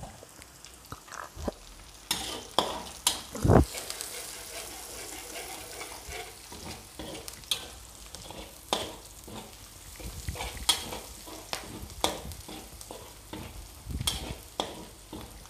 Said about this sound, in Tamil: நல்லா கிண்டிக்கிட்டே இருங்க